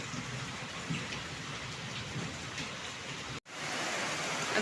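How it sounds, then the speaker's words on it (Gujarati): Heavy rain pours down during a flood near the Malan river, a dense, even roaring hiss that fills the clip, briefly cut out for an instant before resuming at full strength. "ફરીવાર વરસાદ ધોધમાર શરૂ થયો છે"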